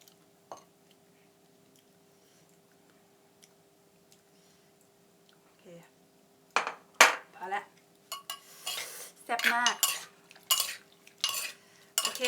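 Corn som tam pounded in a mortar, quiet at first with a faint hum and a lone knock, then a run of sharp wooden thuds and scrapes coming quickly and unevenly, close by.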